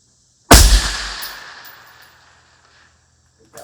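A single loud, close rifle shot fired with stock PMC .223 ammunition, a sharp crack followed by a long decaying echo, then a faint click near the end.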